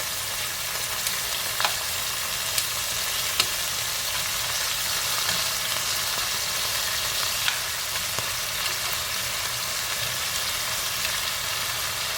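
Steaks for pepper steak sizzle loudly and continuously in a hot pan, a dense crackling hiss broken by a few soft knocks as the meat is flipped over.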